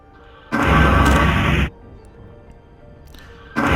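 Elite Dangerous surface scanner signal for an outcrop and a metallic meteorite, heard as a loud, broad pulsing tone lasting about a second, then a faint lull before it returns at the end.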